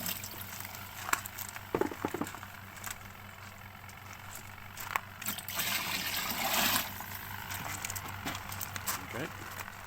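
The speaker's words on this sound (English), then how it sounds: "So I'm just now going to put some fresh water in." Fresh water runs into a Leisurewise twin tub washing machine with a low trickling hiss that surges louder for a moment midway, over a steady machine hum, scattered knocks and muffled voices.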